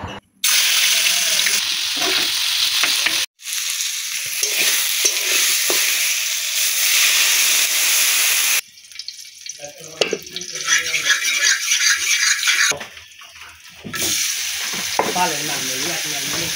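Food frying and being stirred in a home kitchen pan, a steady loud sizzle broken by short pauses, then running tap water and washing sounds in the second half.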